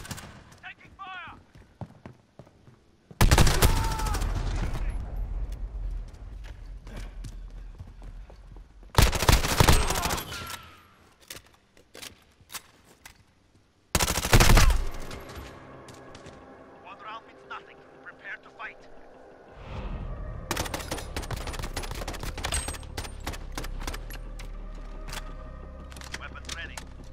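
Gunfire in Call of Duty: Modern Warfare, loud bursts of shooting that come in several separate blocks amid game noise, with a person talking over parts of it.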